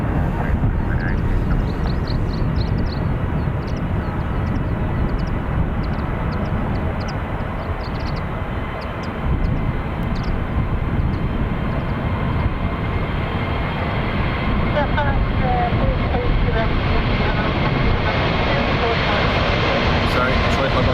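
Jet airliner engines roar steadily and loudly at the Dublin Airport runway, a broad continuous rumble that runs throughout.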